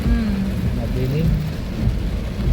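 Steady rain falls on a slippery road, a dense, continuous hiss with a low rumble underneath, while people talk over it.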